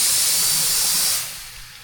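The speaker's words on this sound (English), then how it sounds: "I hear the water. There's the water." Water rushes into an irrigation pipe on a potato and wheat farm, a loud, steady bright hiss that drops off sharply to a softer gurgle after about a second.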